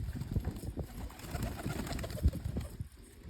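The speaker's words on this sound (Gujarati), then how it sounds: "આપણા કબૂતર પર આવી રહ્યા" Pigeons coo in soft, overlapping bursts close by, a steady murmuring chorus with faint background noise and no talk.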